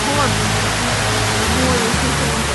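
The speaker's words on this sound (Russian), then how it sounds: "Вся вода теперь уходит вот сюда" Floodwater rushes after heavy rain in Yuzhno-Sakhalinsk, Sakhalin, as a loud, dense, unbroken roar close by.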